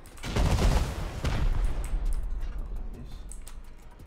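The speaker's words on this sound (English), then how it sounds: "it'll actually shoot you with its turret" Rapid bursts of turret gunfire from a Bradley APC in the survival video game Rust, a dense loud volley at the start that thins into a steady rattling stream, no talking over it.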